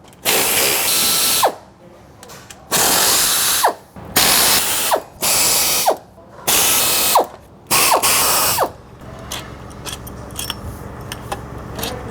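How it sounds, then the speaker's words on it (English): A ratchet wrench loosening alternator bracket bolts on a Jeep Wrangler JKU during a supercharger install: several loud, close bursts of rapid clicking separated by short pauses, then quieter clinks and fiddling. "The bracket has 1, 2, 4 bolts in total to pull the bracket off to change the belt."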